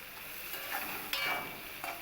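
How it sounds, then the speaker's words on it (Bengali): Kochur lati (taro stolons) fry with salt and turmeric in a pan, making a soft, steady sizzle with a few faint scrapes of stirring, quiet and close. "এই লবণ আর হলুদ দিয়ে এই কচুরলতিটাকে আমি খুব ভালো করে একটু ভাজা ভাজা করে নেব।"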